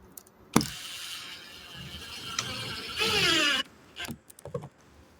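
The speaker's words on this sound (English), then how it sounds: "Okay, screwed the top. I'm screwing the middle now." Screws driven into a palm box, a series of brief clicks and knocks with a sustained grinding, ratcheting burst near the end, close and fairly quiet.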